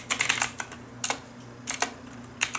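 Keys clatter on a computer keyboard as a Google search for skateboards is typed, coming in quick bursts of clicks separated by short pauses, close and clear.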